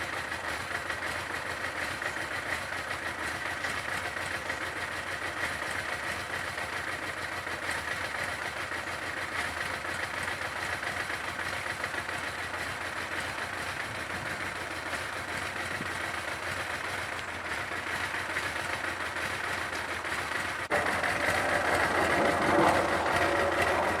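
A 1982 Suzuki GS1100G motorcycle engine idles steadily after decades of sitting, a continuous moderate running drone that grows slightly louder near the end.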